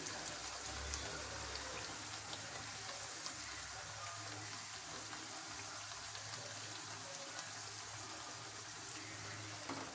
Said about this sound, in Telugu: ఇలా అన్ని పూరీలను మనము ఇలా డీప్ ఫ్రై చేసుకోవాలి.